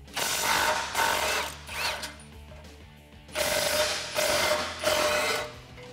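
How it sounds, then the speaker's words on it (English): Ratcheting socket wrench with a 16mm socket tightening bolts on a Jeep Wrangler JK four-door roof rack, heard as bursts of rapid clicking, about five strokes with short pauses between, close and clear. "Now you can tighten down the front two bolts with a 16mm socket"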